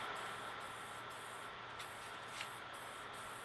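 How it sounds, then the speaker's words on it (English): Paint sprays onto a plywood wine box table as a steady, soft, even hiss that runs continuously without pause, faint and close. "And you spray it with your paint."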